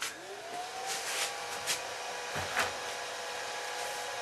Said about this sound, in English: Turn the lathe on, of course.